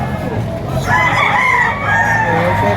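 A rooster crows loudly and close at a rainy-day chicken market in Padre Garcia, Batangas, a single drawn-out call rising over crowd murmur and background chatter.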